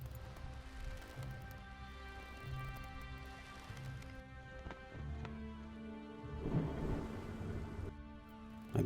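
Thunderstorm with steady rain in the sailing game Nantucket, a continuous rumbling wash of rain and low thunder holding throughout at moderate level with no talk.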